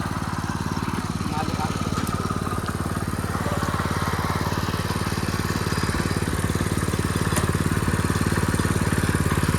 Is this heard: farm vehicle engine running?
yes